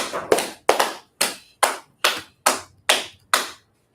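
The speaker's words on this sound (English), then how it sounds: "Clap up for class" A class giving a round of rhythmic clapping, about nine sharp, evenly spaced claps, close and clear with nothing else under them, ending abruptly.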